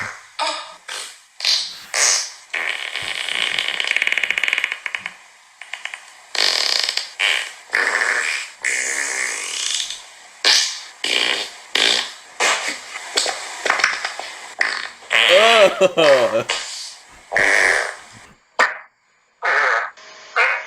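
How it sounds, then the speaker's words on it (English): A rapid string of farts plays, dozens of short sputtering, squeaky and wet bursts separated by brief silences, some drawn out into creaky wavering tones, loud and close with no voices. "this is a fucking fart video"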